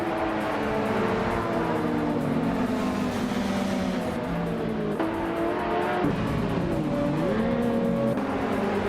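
Race cars, including a 1985 Mazda RX-7 Turbo, launch at the start of a video game race at Okutama Sprint, several engines revving and shifting together in a loud, dense drone with no voices.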